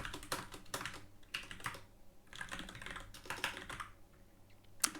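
Quick bursts of typing on a computer keyboard during a coding session, the soft clicks coming in rapid clusters with brief pauses, quiet and close with no voices.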